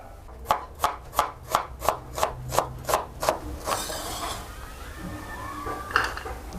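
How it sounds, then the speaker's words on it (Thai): A knife chops half a large onion steadily on a cutting board, about eleven quick, even strikes in a row, then a scraping sweep across the board. "ทีนี้ก็หั่นหอมหัวใหญ่ครึ่งหัวครับ"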